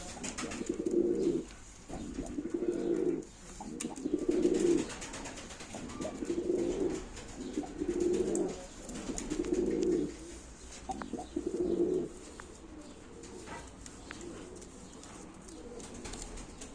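Tumbler pigeons coo repeatedly at a live bird auction, a rhythmic series of about eight soft, throaty coos in steady succession, close by and fairly quiet, with faint background noise.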